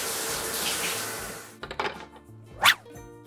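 Tap water runs steadily into a bathtub while a child is rinsed, a broad continuous wash that cuts off midway, followed by a few thunks and a short gush.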